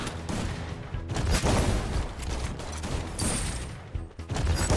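Rapid bursts of gunfire from the Free Fire battle royale game crackle through a dense, loud mix of shots and in-game effects, nearly continuous across the moment with brief dips between volleys.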